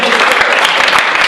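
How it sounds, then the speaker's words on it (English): Brief burst of loud audience applause at an improv comedy show, close and dense clapping throughout a short moment. "Let's give a round of applause for Alan"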